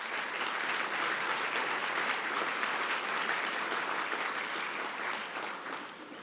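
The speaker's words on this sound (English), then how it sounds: "that deserves a round of applause" A room full of guests at a formal annual trade dinner breaks into sustained applause, dense and even, holding steady for several seconds before tapering slightly at the end.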